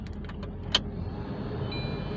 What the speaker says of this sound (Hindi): अब चाबी घुमाओ एक बार।